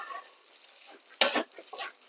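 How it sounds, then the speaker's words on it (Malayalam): A breadfruit and egg thoran with curry leaf powder is stirred dry in a pan, making soft, fairly faint scraping strokes, with one louder scrape midway over a quiet background sizzle. "എല്ലാം കൂടെ നല്ലോണം ഇളക്കി അത് ഡ്രൈ ആക്കി എടുക്കാം."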